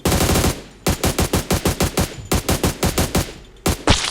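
Automatic rifle fire in the mobile battle royale game PUBG Mobile, with loud rapid bursts of evenly spaced shots separated by short gaps and no talk.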